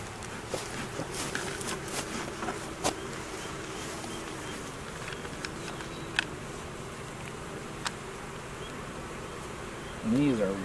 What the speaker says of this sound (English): And these are very, very calm bees